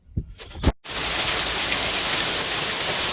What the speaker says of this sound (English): It's raining ice outside, and you can hear the ice bounce off the satellite dishes out there